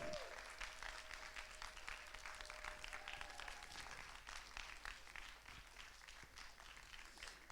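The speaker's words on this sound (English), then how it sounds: "So please give them a big round of applause." An audience applauds the performers at a Scottish youth poetry slam, a steady wash of many hands clapping throughout, fairly distant and even in level with no speech over it.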